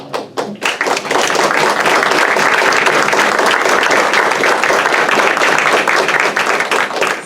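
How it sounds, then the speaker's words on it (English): A school board meeting audience in Greenfield, California bursts into applause for a donor, a few scattered claps at first swelling into loud, sustained clapping from many people close by. "yes, we can clap for her"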